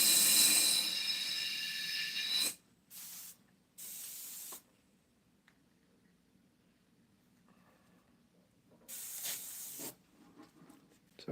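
Airbrush spraying opaque paint onto a flame and firewood design, a loud hissing burst at the start followed by several short spurts separated by pauses, with faint room noise between them.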